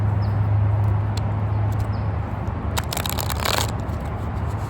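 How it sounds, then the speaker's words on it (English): Stiff tarot cards being shuffled close up, a steady riffling rustle with a brief burst of sharper snapping slaps toward the end, no talking. "These things are still stiff as a board. Still hard as heck to shuffle."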